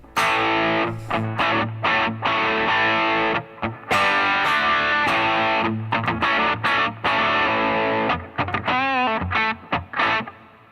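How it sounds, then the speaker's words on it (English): Electric guitar through an overdriven amp model in the Positive Grid Bias FX iOS app, playing loud chords and single notes with short pauses, then a wavering bent lead phrase near the end, with no talking. "let's see what a little drive will do here"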